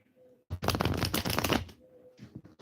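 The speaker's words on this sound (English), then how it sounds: "Tasha's Divine Guidance cards are very slippery." Slippery Divine Guidance oracle cards riffled close by in one dense, loud burst lasting about a second, followed by softer card slides and faint handling.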